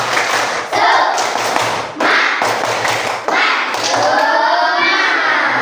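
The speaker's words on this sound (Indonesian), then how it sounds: "kita sama-sama tepuk semangat dulu, Pak" A group in a religious studies class at UIN Sunan Gunung Djati Bandung does a rhythmic cheer clap, loud patterned bursts of hand claps and taps separated by brief pauses, with chanting voices mixed in.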